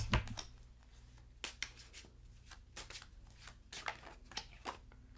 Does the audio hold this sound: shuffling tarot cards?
yes